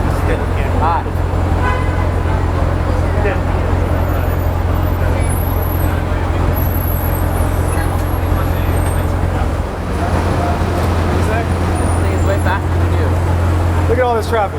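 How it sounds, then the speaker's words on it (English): Street traffic near Times Square rumbles steadily, with engine drone and occasional horn toots, while people talk over the noise throughout. "Look at all this traffic."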